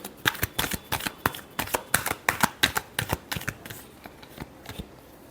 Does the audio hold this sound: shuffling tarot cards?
yes